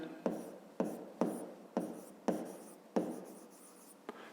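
A pen scratches across paper in a series of quick, distinct strokes, about seven firm marks in a regular rhythm, close and quiet, with no talking.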